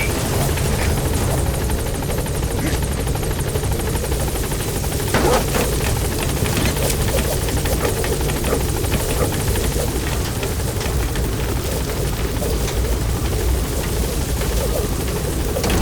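Military helicopter hovering at a landing zone in Metal Gear Solid V: The Phantom Pain, a steady loud rotor roar with rumbling low end filling the whole stretch without a break.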